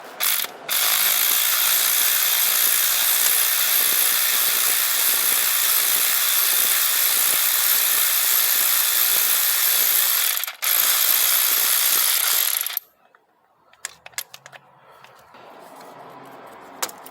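A ratchet turns a Torx Plus 45 bit on the idler pulley bolt of a Mercedes drive belt. A steady, loud, fast clicking runs for about twelve seconds with one brief pause, then gives way to quieter scattered knocks and handling.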